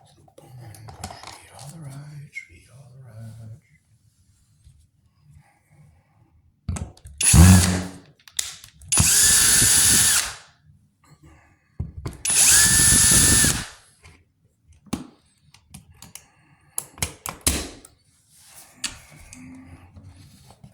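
Cordless power drill driving screws while a wall outlet is taken apart, in several short whirring bursts between quiet pauses, with faint clinks of metal parts and brief speech early on.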